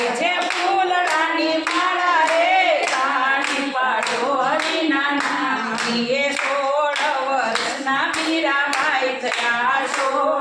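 People clap steadily in rhythm along with a sung Gujarati devotional bhajan about Meerabai; the claps are sharp and regular, running under a continuous vocal melody throughout.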